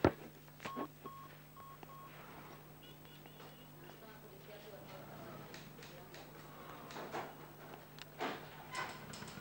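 Short beeping tones of a telephone being dialed at a police station in a Tamil film scene, a few brief tones early on over a low steady hum, with faint talk and room noise around them.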